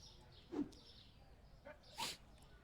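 A single short sneeze bursts out around the two-second mark, fairly close and moderately loud, with a smaller vocal sound just before it and quiet room noise throughout.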